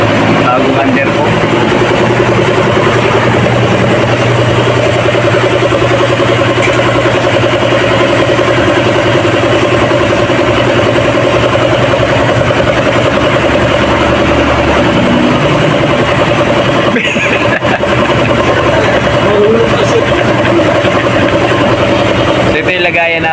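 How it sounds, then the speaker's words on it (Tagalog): A Nissan NV350 diesel engine idles at a service shop during an oil change, with a loud, continuous, even rumble and voices in the background. "diesel engine."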